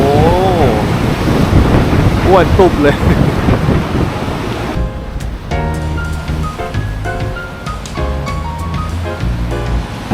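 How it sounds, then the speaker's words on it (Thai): Strong seaside wind on the Kamakura coast in Japan around New Year, a loud rushing roar buffeting the microphone while a person talks, with tonal background sounds emerging in the latter half. "ลมแรงมาก"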